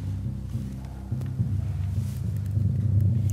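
A music composition filtered to a single frequency band, leaving a continuous low, muffled rumble like timpani with shifting bass tones that slowly builds in loudness, no distinct instruments or voices.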